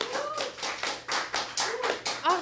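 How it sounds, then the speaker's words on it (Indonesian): Scattered clapping from a small group at an anti-corruption music event, a loose series of distinct claps at an uneven beat, with faint voices underneath. "Keren banget, tepuk tangan dong buat kita semua."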